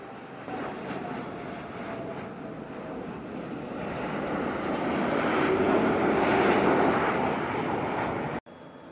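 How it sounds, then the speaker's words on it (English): Fighter jets fly overhead in formation at a 4th of July celebration in 2019, their engines a broad, steady roar that swells toward the middle, then cuts off abruptly near the end. "Fighter jets flying in formation during the 2019 4th of July celebration."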